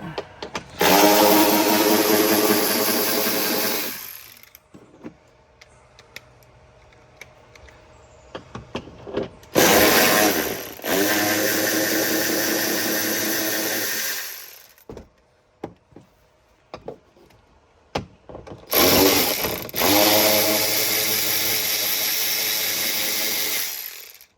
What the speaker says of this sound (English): Take screws out.